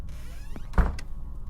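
A door in a mystery video game slides and shuts with a muffled, fairly close thud, preceded by a soft mechanical whir and followed by a short click, with no voices.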